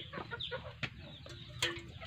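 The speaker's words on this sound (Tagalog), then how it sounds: "Mga alaga namin, ang mga manok." Pet chickens cluck softly nearby, giving a few brief, scattered clucks and squawks over a quiet background.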